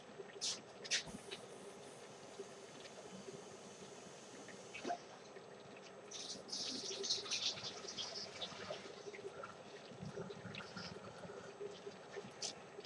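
A bowl is rinsed under running water from a tap in a kitchen, a soft steady stream with faint splashes and clinks, quiet and close.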